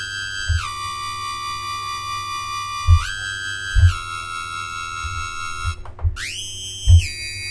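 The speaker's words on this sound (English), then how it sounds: "That's the feedbacky kind of noise." Screeching dubstep formant synth with a feedback-like quality, holding high harmonic tones that jump in pitch every second or so, with short low thumps marking each change; loud and alone.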